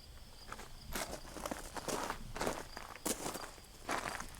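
Footsteps circle a DR Power Equipment K34 Pro XL kinetic log splitter with pneumatic tires, a steady series of close, crisp crunching steps on a gritty outdoor surface, with no talk.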